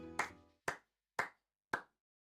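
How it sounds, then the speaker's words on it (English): Four sharp hand claps ring out alone in a quiet space, the first a touch louder, each spaced about half a second apart with clean silence between. "who's clapping?"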